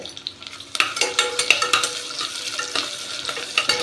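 Ginger, garlic and dried red chillies sauté in a pan for white biryani rice, a steady close sizzle broken by repeated sharp scrapes and clinks of a spoon stirring against the metal.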